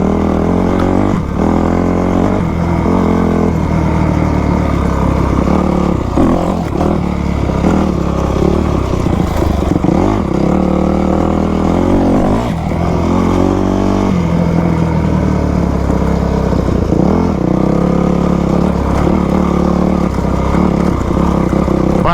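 An imported dirt bike ridden off-road over rough, stony ground, its engine loud and close, revving and surging repeatedly throughout with a constant buzzing drone and no voices.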